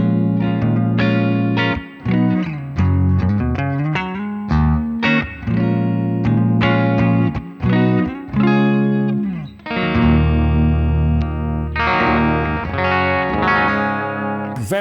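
Electric guitar played through a Blackstar ID:X 100 amp on its warm clean preamp setting, ringing chords and single notes strummed continuously, full and loud with light effects, no talking.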